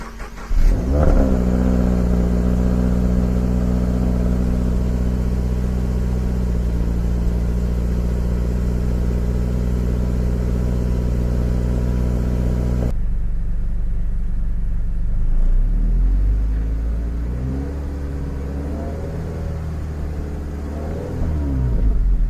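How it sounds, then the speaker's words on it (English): A stock-exhaust 2018 50th Anniversary Subaru BRZ starts cold and holds a steady, loud idle with strong low rumble, then the tone shifts and drops as the revs settle and waver slightly toward the end, with no talking. "I'm going to do the little stock exhaust cold start video."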